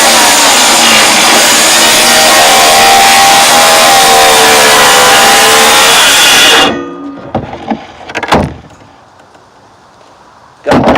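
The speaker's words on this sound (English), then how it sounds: "we'll go ahead and cut this where we need it" A Black & Decker 7-1/4 inch circular saw whines steadily through clamped wood for several seconds, then the motor cuts off and spins down, leaving scattered handling knocks and clatter.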